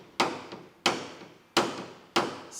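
A hammer strikes a car body panel during paintless dent repair, four sharp, evenly spaced metallic taps, each ringing briefly before the next, close and alone.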